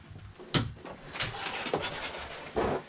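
The new barn-style door of a Passport 2521RL travel trailer is opened, giving a few hollow knocks and thumps with a brief sliding rumble, close by and fairly loud.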